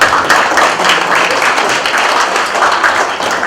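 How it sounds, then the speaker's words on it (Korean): Audience applause opening a national defense and security emergency debate forum, loud and close, with a sustained wash of clapping from a seated crowd and a few distinct hand claps poking through. "박수로서 토론회를 시작하도록 하겠습니다."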